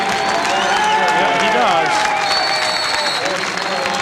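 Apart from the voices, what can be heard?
crowd applause at 1993 lacrosse game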